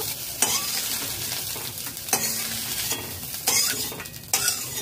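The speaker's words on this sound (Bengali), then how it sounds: "লো টু মিডিয়াম ফ্লেমে নাড়াচাড়া করে হালকা লাল করে ভেজে নিয়েছি।" Eggs frying in a pan over low-medium flame, a constant sizzle under loud, repeated scraping strokes of stirring that come in several sharp bursts.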